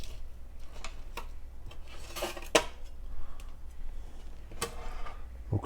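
A knife saws and scrapes through air-fried roast lamb on a plate, with a series of soft rubbing strokes and light clicks of metal on dishware, close and fairly quiet with no talking.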